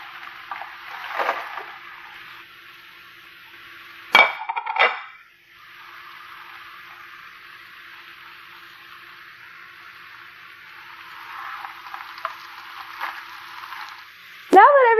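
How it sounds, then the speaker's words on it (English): Tofu drops into a hot pan of broccoli for a stir fry, setting off a steady hiss of frying with clatter and scraping from stirring, plus a sharp clink near the end. "Now it's time to add the tofu."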